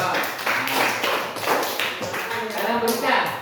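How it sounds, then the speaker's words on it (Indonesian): Group of students clapping hands together in a classroom, a dense burst of claps with rhythmic patting, fairly close and loud, with voices mixed in. "Sekarang tepuk tangan."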